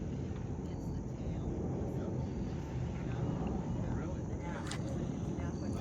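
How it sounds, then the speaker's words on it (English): A Lockheed L-1011 airliner flying near Logan airport gives off a faint, steady, distant roar that rumbles on throughout. "That's an L1011."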